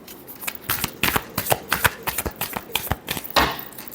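Tarot cards are shuffled by hand in quick, crisp riffles and snaps, a close run of short bursts in an uneven rhythm, with no talk over them.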